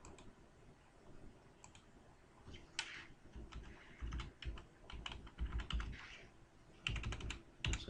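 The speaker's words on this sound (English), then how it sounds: "I'm doing this all on the keyboard" Typing on a computer keyboard, quiet close clicks coming in irregular bursts and denser flurries of keystrokes, with no talking.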